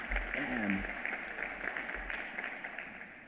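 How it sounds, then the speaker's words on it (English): Audience applause at the launch of a city strategic hub in eThekwini, a faint, steady wash of clapping from a crowd, with a voice briefly heard at the start. "Can we get a round of applause to the"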